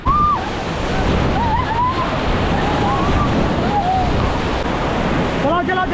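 The Roller Coaster river rapid near Rishikesh roars with loud, constant rushing water during a rafting run, while people shout and call out over the churning surf.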